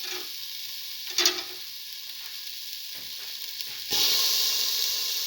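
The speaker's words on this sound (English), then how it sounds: "Now put in the tomato pieces" Tomato pieces drop into a hot pot of potato and split pigeon pea stew, setting off a loud continuous sizzle and hiss, with a brief burst of stirring and a louder surge of frying toward the end.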